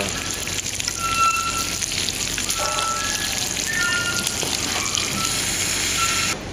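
Steady crackling sizzle of garlic frying in hot oil, dense and continuous, with faint clinks of a utensil against the pan.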